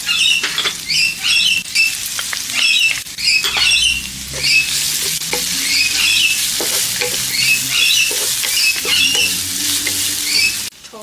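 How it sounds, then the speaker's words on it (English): Garlic and shallots sizzle and crackle in smoking-hot oil in a wok over high heat, a dense, steady frying hiss with bright pops, stirring scrapes and a low rumble running throughout. "Heat up wok with 3 tablespoons of oil on a high heat till smoking point. Saute garlic and shallots till golden color."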